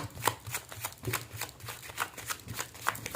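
Tarot cards are shuffled in steady, rhythmic riffles, each burst of papery flutter repeating about every third of a second, close and fairly quiet, with no talking.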